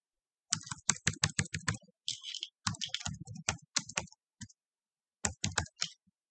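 Rapid clicking of keys on a computer keyboard in short bursts with brief pauses, close and fairly quiet, no talking.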